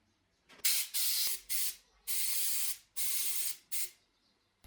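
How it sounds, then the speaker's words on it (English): Compressed air blasting dirt from the oil ways of a bottle jack under restoration, six sharp hissing bursts of varying length separated by short pauses, close and clear. "Compressed air to blow the dirt from the oil ways"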